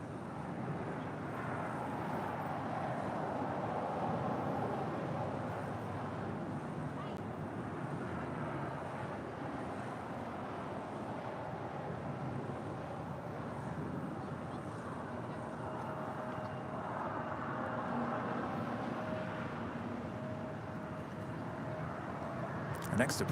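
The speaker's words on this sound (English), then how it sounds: "And Sun Country Airlines Flight 427 coming from Minneapolis in the 737-800." Sun Country Airlines Boeing 737-800 at LAX, a low continuous engine rumble with wind-buffeted hiss, fairly distant and steady, with a faint whine rising near the end.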